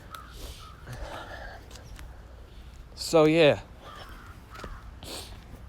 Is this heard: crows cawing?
yes